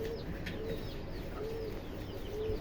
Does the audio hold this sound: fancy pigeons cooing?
yes